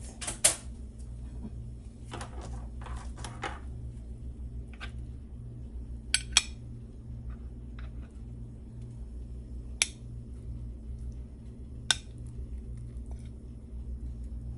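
Plate and cutlery give scattered sharp clinks and taps while steak and potatoes are served, isolated clicks over a low steady hum, close and fairly quiet with no talk.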